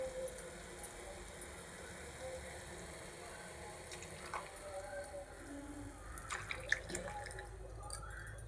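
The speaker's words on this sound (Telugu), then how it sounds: "నీళ్ళు మరుగుతున్నాయి కదండి" A pot of water comes to a boil on the stove while wheat flour mixed in water waits to be added for a chutney, giving a faint, steady bubbling and simmering texture with a few scattered drips and pops.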